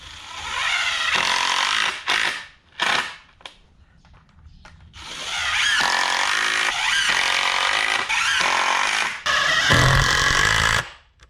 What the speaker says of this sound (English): Now we'll attach this with 4 screws.